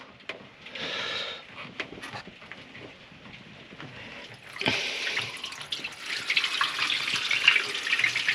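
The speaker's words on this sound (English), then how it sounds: "if water comes out if I open the through hull." Water gushes from an opened through-hull fitting on a boat, a steady rushing flow that swells loudly after a quieter start with a short splash.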